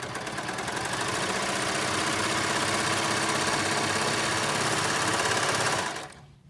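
Baby Lock Imagine serger stitching a 3-thread narrow hem, a fast, steady rattling run of the motor and needles lasting about six seconds, close and loud, then stopping abruptly.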